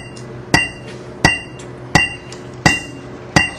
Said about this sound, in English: I'll try not to kill everyone with this metronomes a little on the loud side.